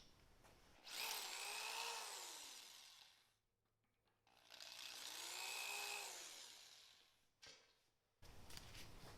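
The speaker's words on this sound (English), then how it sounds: "drill a hole in the handlebar so this can sit down in there" A power drill bores a hole through a drift trike's handlebar in two long, loud whining bursts, each winding up and down, with a short pause and a brief blip between them.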